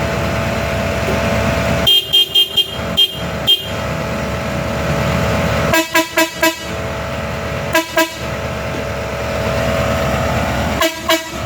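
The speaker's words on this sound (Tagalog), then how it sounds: "busina" Repeated loud car horn honks in short bursts over steady, loud traffic and engine noise, coming in clusters with pauses between.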